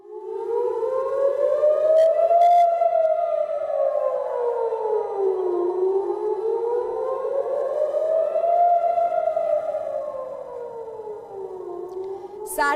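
Air raid sirens wail over an Israeli city minutes before a truce takes effect, a loud, continuous tone slowly rising and falling in long sweeping cycles, with no voices.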